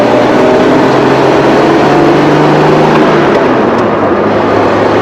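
A Bentley Special with a 4.9-litre Rolls-Royce engine and a failing distributor revs hard, a loud, dense, roaring engine note held steadily throughout with no voices.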